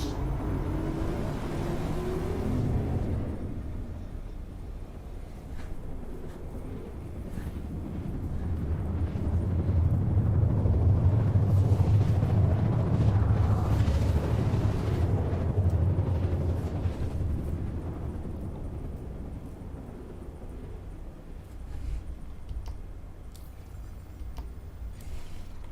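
A low rumbling roar from a spaceship's quantum travel drive in a space sim video game builds steadily, peaks in a heavy drone, then fades back down.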